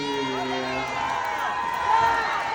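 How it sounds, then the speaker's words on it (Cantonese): A crowd cheers and applauds for dancers at a Hong Kong song launch event, a steady wash of clapping and shouts with a swell near the end, blended with amplified voices. "俾多啲掌聲，歡呼聲，多謝我哋幾位 dancers"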